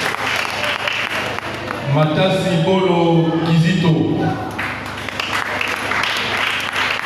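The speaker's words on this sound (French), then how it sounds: "Vos acclamations que vous encouragez." Audience applause at a church certificate presentation, a steady wash of clapping running through the whole stretch, loud and close, while a man reads out recipients' names over it.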